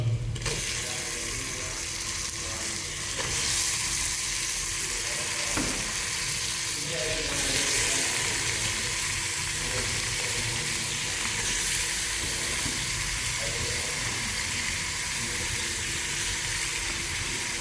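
Boti (goat tripe) curry frying in a pan, a continuous close sizzle and hiss with occasional stirring scrapes, moderately loud throughout, with faint talk in the background.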